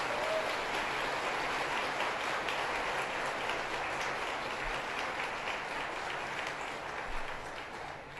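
Audience applause at a Martin Luther King event, sustained even clapping from a large crowd that carries on steadily and tapers slightly toward the end, with no voices.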